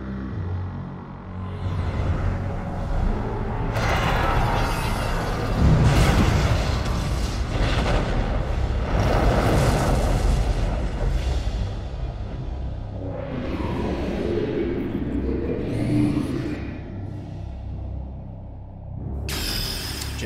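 Ship missiles strike a shield generator in Metroid Prime 3: Corruption, a run of heavy booming explosions and rumbling blasts that swell and fade over a sustained roar, ending in a sharp burst.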